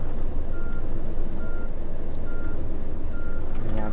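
Steady reversing beeps from a bus in a driving video game repeat at an even pace over a constant low engine drone, with no talking.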